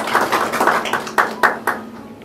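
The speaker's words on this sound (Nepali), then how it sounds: "उहाँलाई ताली बजाइदिन सक्नुहुन्छ।" A short burst of audience applause for a pastor and author at a book release event, a few hands clapping in loose rhythm with several sharp claps before it fades out.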